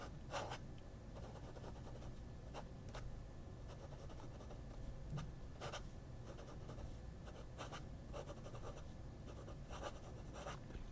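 Mag 600 fountain pen nib scratching and gliding across paper, very faint and close, with short strokes and a few sharper ticks, no talking.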